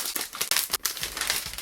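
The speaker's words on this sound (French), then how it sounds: "Allez, on enlève le blister." Plastic blister packaging crinkles and crackles as it is peeled off a light, ultra-thin aluminium HP laptop, a close run of bursts with one short pause and no talk.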